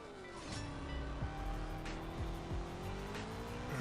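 Engine revving and shifting through gears in CSR Racing 2, a drag race in a Zenvo during a flash event, with rising engine tones broken by quick gear changes and a brief tire squeal, loud and continuous throughout.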